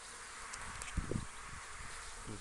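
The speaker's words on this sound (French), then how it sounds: "pas mal d'abeilles qui vont et qui viennent" Honeybees buzzing at a hive entrance in spring, a faint steady hum of many bees coming and going, with a few closer soft buzzes and light knocks passing near.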